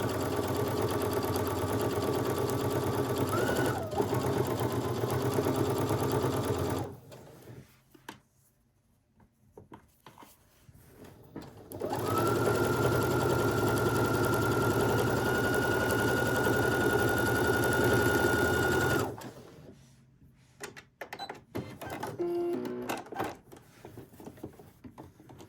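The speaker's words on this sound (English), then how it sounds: "let's go to the machine and stitch this down" A sewing machine stitches a quarter-inch seam on a quilt-as-you-go placemat, running steadily in two long close bursts with a pause between, then quieter handling noises.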